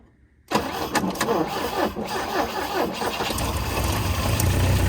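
An abandoned Volvo Amazon cranks and catches in 45-degree cold with the choke full on, jumping from near silence into a loud, rough, uneven running rumble up close.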